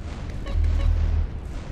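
A deep, rumbling boom swells and fades, a distant explosion in Multi Theft Auto, with low muffled thuds around it.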